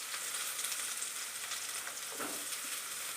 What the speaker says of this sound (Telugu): ఎర్రగడ్డలు వేసుకోవాలి.